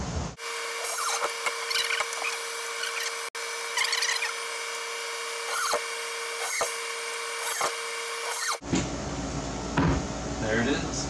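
A power driver drives screws into a wooden sign at a small beach house, with several short whirring bursts and scraping knocks against steady background hum, then a louder shift in noise near the end.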